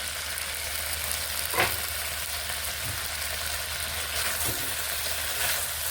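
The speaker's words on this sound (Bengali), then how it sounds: "জল শুকিয়ে এসেছে এবার একটুখানি ভেজে নিচ্ছি এইভাবে" Flat beans fry in a pan after their cooking water has boiled off, giving a steady even sizzle with a few faint stirring knocks, close and alone without talk.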